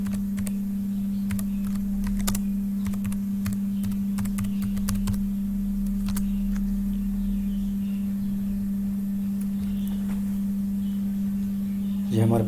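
Typing on a computer keyboard while entering text, a scatter of irregular clicks and key taps that is strongest in the first half, sitting over a constant low electrical hum.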